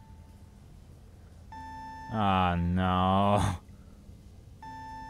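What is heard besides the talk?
alarm beeping in video game Penumbra: Overture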